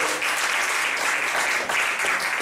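A church congregation applauds steadily and loudly at a worship service, dense continuous clapping filling the space with slight swells and no voices standing out.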